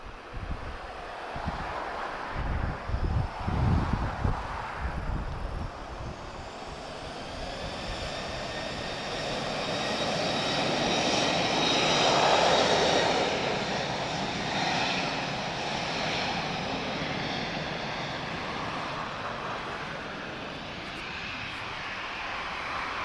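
Strong crosswind roars across the microphone at Lisbon Airport, with rumbling gusts early on giving way to the swelling, sustained drone of an airliner passing at a distance.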